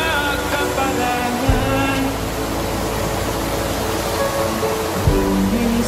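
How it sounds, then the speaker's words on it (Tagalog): Steady rushing of river water flowing by as someone washes clothes at a riverbank, a broad continuous wash of sound with a couple of brief low thumps, close and fairly loud. "si Carla, siyempre naglalaba po doon sa ilog."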